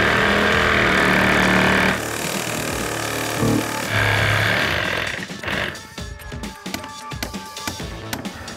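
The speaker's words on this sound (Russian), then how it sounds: "Так, продолжаем пилить." A reciprocating saw cuts through a car steering shaft lock, its loud, steady buzzing whine running for several seconds before breaking into scattered metallic clanks and rattles as the cutting stops.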